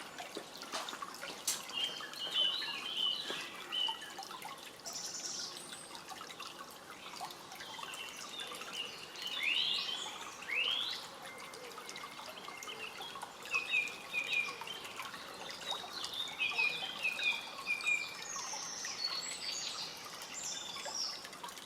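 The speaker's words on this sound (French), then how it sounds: "Je vais ouvrir l'eau pour la partie du haut." Water from a homemade fountain runs in a faint, steady trickle with soft drips, while distant birds chirp intermittently in the background.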